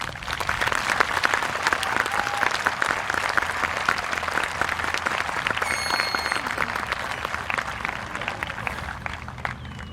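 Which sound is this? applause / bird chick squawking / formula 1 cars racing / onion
applause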